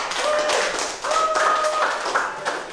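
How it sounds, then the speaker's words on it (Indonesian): A classroom of students claps for a classmate's answer, with quick uneven bursts of hand claps at moderate distance and some faint tonal noise underneath, and no clear talking. "Oke, tepuk tangan dulu untuk jawaban dari Dandi Saputra ya."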